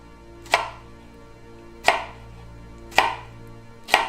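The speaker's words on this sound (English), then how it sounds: "So we're just gonna thinly slice some strawberries." Knife thinly slicing strawberries on a board, four sharp crisp cuts spaced about a second apart, close and clear with no talking.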